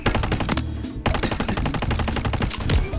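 Rapid automatic G36 rifle fire in a Call of Duty MW3 zombies match, loud and close, with dense bursts of shots, a short pause near the middle, then sustained firing again.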